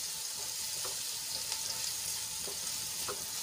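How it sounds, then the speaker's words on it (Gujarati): Finely chopped onion sautés in hot oil until it turns pink. There is a continuous close sizzle with scattered crackles and a few light stirring scrapes. "ડુંગળીને આપણે ગુલાબી રંગની થાય ત્યાં સુધી સાંતળી લેવાની છે"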